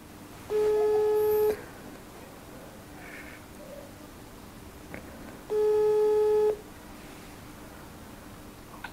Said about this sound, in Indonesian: Jadi langsung aja saya telepon nih.